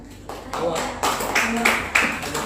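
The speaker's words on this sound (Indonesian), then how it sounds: "tepuk tangan untuk situasi dan suasana kita" Applause from an audience in a university lecture hall, a burst of hand claps rising in irregular waves over a couple of seconds, fairly close and moderately loud, with a voice speaking over it.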